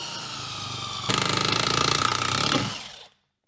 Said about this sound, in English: now the big DCF 899 high torque impact wrench